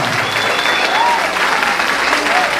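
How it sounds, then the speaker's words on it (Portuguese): Congregation at an evangelical Christian talk breaks into sustained, dense applause that fills the whole moment, with faint voices mixed in. "Vamos aplaudi-lo bem melhor."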